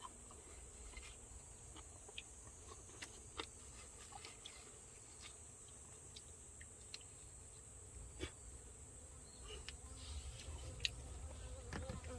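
Hornets buzz around a watermelon at an apiary in Jangsu, North Jeolla, a faint, steady drone with scattered light ticks and no voices.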